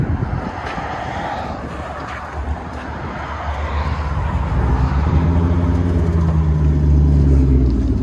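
A 2016 Chevy Camaro LT1 six-speed manual with a straight-pipe dual exhaust and lowering springs idles nearby, a loud, steady low rumble that grows slightly deeper and stronger toward the end.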